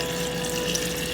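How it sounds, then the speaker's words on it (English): Water pours steadily into a jar of beets and salt while making kvass, a short, continuous, close-up gushing fill. "And we're just going to cover this with water."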